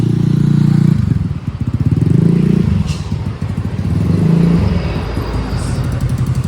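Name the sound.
motorcycle being moved in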